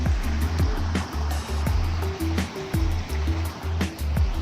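A waterfall beside tea plantations in India rushes in a continuous roar, with low rhythmic thumps and knocks recurring close by.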